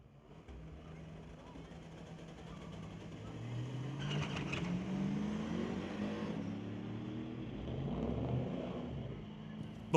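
A Honda Civic and a Zapstrap Racing Chevy pickup launch side by side down a drag strip, engines swelling and revving at a distance under a steady, loud announcer's commentary.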